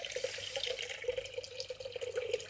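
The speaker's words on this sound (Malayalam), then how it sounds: "കുറച്ച് വെള്ളം ഒഴിക്കണം" Water poured or run from a tap to wash pumpkin flowers in a home kitchen: a steady, continuous splashing and trickling stream, fairly close, with no voices.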